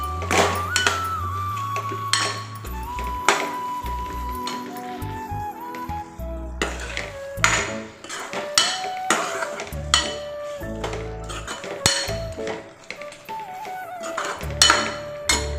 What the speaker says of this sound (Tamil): இந்த வெள்ளத்தை சேர்த்து நல்லா கலந்து விட்டுருங்க